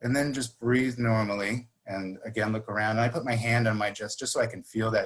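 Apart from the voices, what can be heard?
None of the usual background noises is heard.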